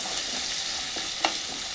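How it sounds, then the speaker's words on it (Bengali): Crabs fry in a pan for a crab curry, giving a steady, close sizzle with a soft stir or scrape near the middle. "কাঁকড়াগুলো ভাজতে একটু টাইম লাগবে, একটু লাল লাল করে ভাজা হবে কাঁকড়াগুলো"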